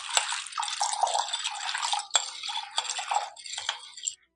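White chickpeas being washed by hand in a bowl of water, a steady sloshing and splashing that runs almost continuously with brief pauses, fairly close with no talk.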